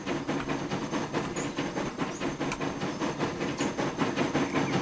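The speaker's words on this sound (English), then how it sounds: "Now this train is on its way." Steady rumbling and rhythmic clatter from a freight train rolling along the tracks in Transport Fever 2, a continuous moderate wash with repeating clicks and no talk.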